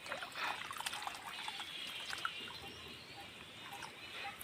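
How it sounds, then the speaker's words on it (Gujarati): Water poured from a filled can into a bowl set out for sparrows, a steady soft trickle and splash running throughout at close range with no talking. "હવે રેડી દઈશું આપણે પાછું પાણી."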